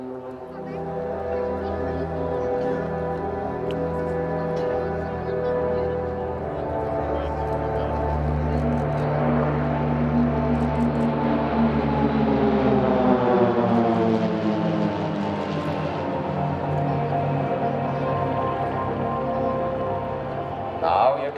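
A formation of Swiss Air Force PC-7 Team Pilatus PC-7 propeller aircraft flies past at an airshow, a loud droning propeller hum whose pitch swells and then bends downward as the planes pass, with a commentator talking over it.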